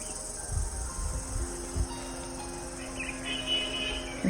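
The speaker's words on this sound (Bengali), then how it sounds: "ঝিঝি পোকা মনে হয়।" At a hill resort, crickets chirp with a steady, thin, high trill. The sound is faint and carries over a quiet outdoor background with a few soft low thumps.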